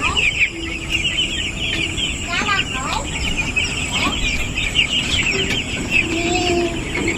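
Chickens on a poultry farm at dusk cluck and chirp in short, scattered calls while being given water, with a steady hiss of background noise underneath.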